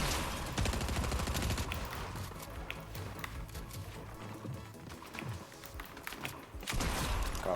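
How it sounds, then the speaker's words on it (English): Gunfire in a battle royale video game: dense, loud bursts of rapid shots layered over continuous game noise, with a brief lull near the middle before heavy firing resumes. "Someone else is shooting."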